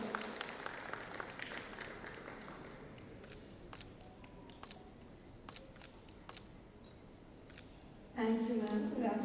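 Audience applause welcoming a speaker to the stage at a live event, a steady wash of many hands clapping that slowly thins, with a few camera clicks, then a voice speaking near the end.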